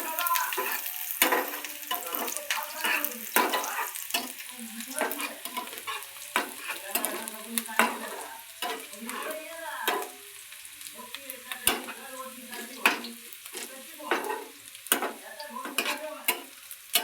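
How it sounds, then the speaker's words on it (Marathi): Onion frying in a pan, with a steady sizzle and repeated stirring scrapes and clinks at an even pace, close and fairly loud. "बघू शकता कांदा भाजत आला."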